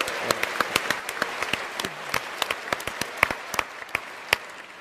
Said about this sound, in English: So you all deserve a round of applause